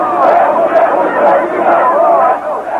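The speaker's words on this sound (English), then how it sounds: "Crowds cheered and waved flags as the Ukrainian parliament voted to secede from the rest of the country" A large crowd cheers and clamours outside the Ukrainian parliament during its vote on independence, a dense continuous roar of many voices that swells and dips without a break.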